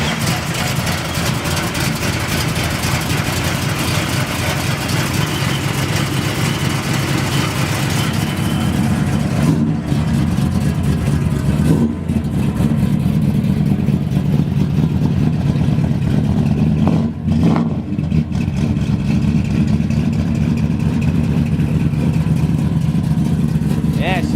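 A Dodge Super Bee tribute with a worked 440 V8 and mandrel-bent headers rumbles loudly and steadily up close, with a deep, even throb that swells slightly throughout.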